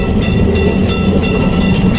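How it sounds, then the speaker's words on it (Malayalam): A Kolkata tram rolls through city streets between Esplanade and Shyambazar, loud and close, its wheels clacking in a regular rhythm over rail joints above a deep rumbling drone. "സിറ്റീൻ്റെ നടുക്കൂടെ പോകുന്ന ട്രെയിൻ. അതിൻ്റെ പേര് ട്രാം എന്നാണ്"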